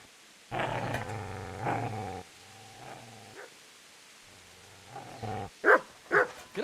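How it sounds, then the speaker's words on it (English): A dog growls in the video game Kingdom Come Deliverance, several low rumbling snarls close by that rise into sharper barks near the end, with no speech over them. "Get away, you mutt!"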